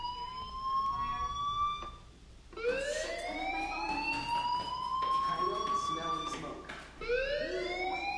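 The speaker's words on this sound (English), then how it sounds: "do you hear that fire alarm? That means you should be outside." A fire alarm in the Life is Strange video game wails in rising, repeating sweeps, with a new cycle starting about every two to four seconds. It sounds loud and continuous, with faint background noise underneath.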